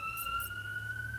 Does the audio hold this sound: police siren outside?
yes